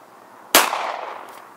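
One loud, close revolver gunshot rings out during test firing at a range, a sharp blast with a lingering echoing tail that fades over about a second.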